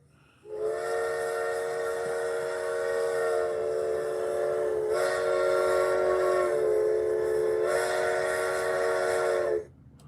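A steam train whistle blows loud and near in one long, bright, harmonic blast lasting about nine seconds, swelling slightly twice before it cuts off.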